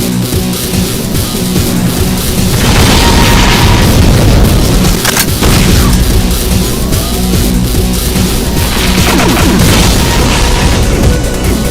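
Demon Tech BFG shots fired in a spread in a Doom mod video game amid Cyberdemons: sustained loud booming blasts, crackling energy and rumbling, punctuated by one sharp crack near the middle.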